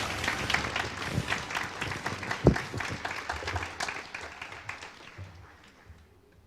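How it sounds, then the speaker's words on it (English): Graduation audience applauds the matriculating class with a soft, distant patter of clapping and a few sharper claps, slowly fading out toward the end. "let's give one more big round of applause to the matriculating class of February 2020"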